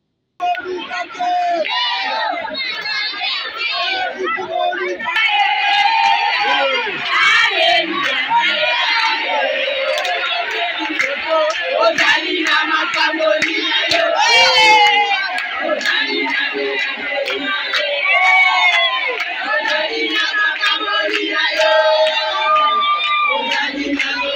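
A large, dense crowd chants and sings in welcome as a political candidate arrives in Tshangu district, voices yelling and cheering loudly and continuously throughout.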